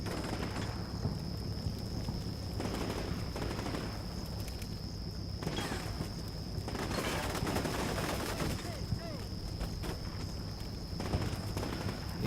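Gunfire in the Combat Mission: Shock Force 2 video game during an urban battle, repeated bursts and volleys of shots crackling over a constant tone, fairly faint, with brief rustling between bursts.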